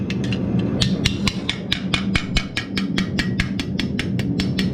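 A ball peen hammer dishes out sheet metal for a grease lamp, striking in a steady, rapid series of sharp ringing blows, about four per second, close and loud, with no talking.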